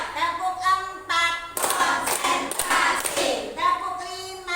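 A class of children claps out a four-count cheer pattern in unison, several sharp group claps in a row, bracketed by spoken calls.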